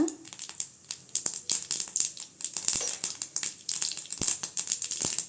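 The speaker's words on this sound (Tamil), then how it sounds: "கடுகு நல்லா வெடிக்கட்டுங்க" Rapid, irregular crackling and popping of mustard seeds bursting in hot oil continues densely throughout without voices.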